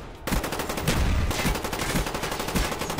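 Rapid submachine gun fire from Call of Duty: Black Ops on Xbox 360, a continuous loud burst of overlapping shots with heavy low thumps running the whole three seconds, no talk.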